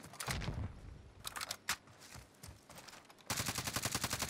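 Bursts of automatic gunfire from the battle-royale shooter Call of Duty Warzone, dense rapid volleys that stop and restart, ending in a steady fast rattle of shots, loud and close with no talk over it.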